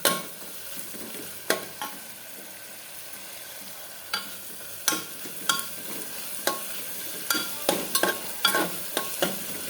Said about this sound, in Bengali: মোটামুটি আমার পেঁয়াজটা ভাজা ভাজা হয়ে গেছে